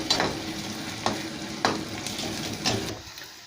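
Chopped small onions fry in a pan for goat brain fry, a steady sizzle broken by a few sharp scrapes and stirs of a spatula, close and fairly quiet with no talk.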